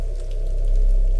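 Heavy rain pouring down during a storm on a dark mountain night, a steady, dense, loud hiss with a low constant hum beneath and no voices.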